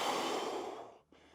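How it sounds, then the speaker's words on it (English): Deep breath drawn in through the nose while holding a plank during a kettlebell home workout: a steady, close airy rush that fades out near the end, then a brief quieter breath. "Focus on deep breathing."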